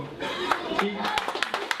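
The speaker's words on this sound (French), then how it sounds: "Ça mérite des applaudissements." Light applause from a small group, likely children, at a gathering, a handful of scattered claps that start sparse and quicken toward the end, with voices speaking underneath.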